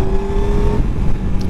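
A 2020 Yamaha R6 sport motorcycle accelerates with a brief steady engine whine that cuts off partway, leaving rumbling wind and road noise.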